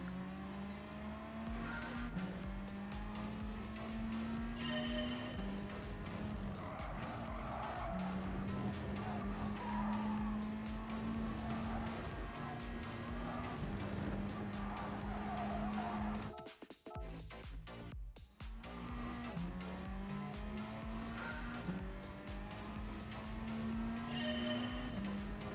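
Race car at full throttle in Gran Turismo Sport, its engine note climbing and dropping repeatedly through quick gear changes, loud and continuous with tire noise and no talk.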